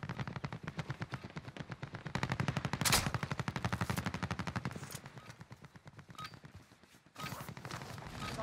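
An M60 machine gun firing in Call of Duty: Warzone, long rapid bursts of automatic fire with a short break, loud and close, with no voices.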